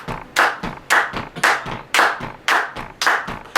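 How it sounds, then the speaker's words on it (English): Hand clapping in a steady rhythm, about eight sharp claps at an even pace, close and loud, with no talking over them. "Oh, I think I can clap on rhythm, right?"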